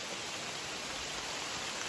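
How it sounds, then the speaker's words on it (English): Heavy rain pours steadily on the Appalachian Trail, a dense continuous hiss with no breaks, fairly faint and heard alone. "The rain's coming hard."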